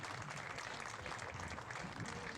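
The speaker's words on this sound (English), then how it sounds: "let's give the class of 2019 one more round of applause." Applause for the class of 2019 at a Fort Loramie baseball event, a steady wash of crowd clapping heard faintly at a distance for a couple of seconds.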